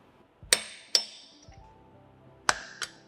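Metal hammer strikes driving a roll pin into a short shifter on a 2015-2025 Subaru WRX: four sharp ringing clinks at irregular spacing, two close together, a pause, then two more, with faint handling noise between.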